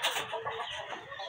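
Chickens in a coop with four hens to a cage, clucking steadily in a dense, fairly close chorus without pause.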